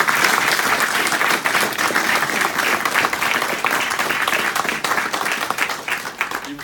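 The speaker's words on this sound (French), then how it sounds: "Je crois que vous pouvez faire un tonnerre d'applaudissements à David Jamin." A gallery opening crowd in Hardelot gives thunderous applause for artist David Jamin, loud continuous clapping with distinct sharp hand claps, tapering slightly toward the end.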